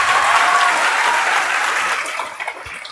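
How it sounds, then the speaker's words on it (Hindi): Loud, dense applause from an audience honouring the makers of the Indian Constitution during a polity lecture, sustained for a few seconds and thinning slightly toward the end, with no talking over it. "जोरदार ताली बजाइए"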